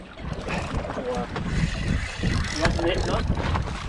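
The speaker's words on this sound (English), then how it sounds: "When it's windy like this" Wind buffets a fishing boat steadily, a broad rushing roar with water slapping beneath, and a voice talks intermittently through it.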